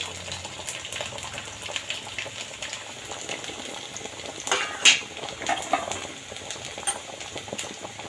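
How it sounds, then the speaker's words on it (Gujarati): Cluster beans (guar) being washed by hand in a home kitchen, with steady running water, a low wash of splashing and occasional clinks of a metal pot, fairly faint and alone. "હવે બા બરાબર ગવારને ધોવો છે।"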